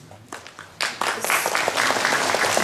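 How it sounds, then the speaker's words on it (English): An audience at a mayoral candidates forum breaks into applause, starting with a few scattered claps and quickly swelling into steady, fairly close clapping from a crowd. "We're going to ask everyone to hold their applause until the very end when the candidates give their closing statements."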